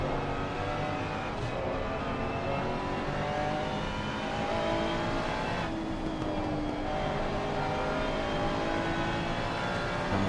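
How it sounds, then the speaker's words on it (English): Bentley and Ferrari race cars at full throttle down the Barcelona straight, heard as a continuous loud engine roar with a rising pitch, as if heard from the racing cars themselves. "That Bentley has so much top speed, it's just pulling away in a straight line from Stofko's Ferrari."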